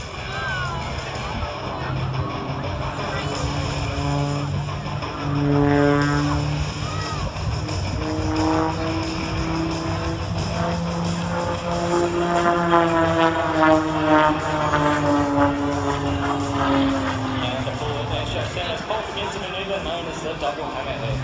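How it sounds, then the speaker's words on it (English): A Pitts Special aerobatic propeller plane flies hammerhead manoeuvres at an Illawarra air show, its engine drone rising and falling in pitch throughout, with an announcer commentating over the top and crowd noise behind. "now high left rudder as Paul completes not one, but 2 consecutive hammerhead turnarounds."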